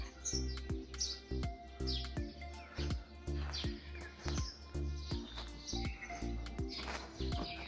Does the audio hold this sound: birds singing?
yes